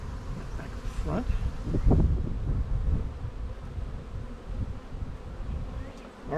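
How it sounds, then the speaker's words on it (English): Honey bees buzz thickly around newly set-up hives, a close, dense swarm drone that swells and fades, with light wind and muffled handling noises. "I'm going to shake these bees out in here."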